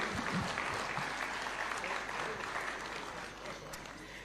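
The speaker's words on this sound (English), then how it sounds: "A round of applause as they pick these awards kindly." Steady applause from the gathered crowd at a Taxpayers' Day ceremony at State House Nairobi as award recipients collect their awards; dense, even clapping throughout without a break.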